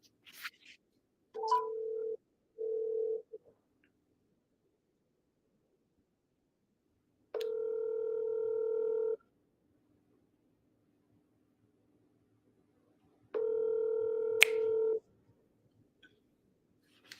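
During a phone call, a short burst of dialing tones plays, followed by two long electronic ringback tones several seconds apart, with near-silence between them and a few faint clicks.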